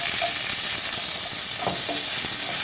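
Cashews and raisins fry in a wok, giving a steady bright sizzle with small crackles and occasional stirring scrapes, close and continuous with no talking.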